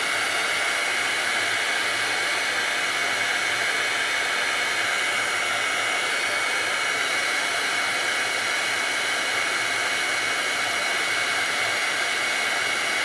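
A loud, continuous roaring hiss from a heat gun drying shimmer powder on floral paper, held steady and close for the whole stretch with no voices.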